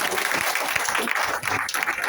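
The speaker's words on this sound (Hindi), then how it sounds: "एक बार जोरदार ताली आपके लिए।" An audience at a corporate event bursts into steady applause, a dense wash of many hands clapping at moderate distance that holds evenly throughout.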